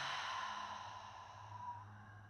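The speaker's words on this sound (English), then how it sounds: "And full exhale out through the mouth." A full, slow exhale out through the mouth during a yin yoga session, a soft breathy rush fading gradually over about two seconds, close and quiet.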